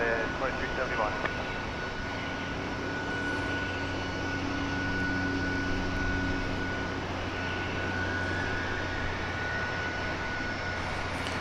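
A Martinair jet bound for Wichita Falls, Texas, at DFW Airport gives off a steady, loud engine roar with a constant whine running throughout, and no voices break in.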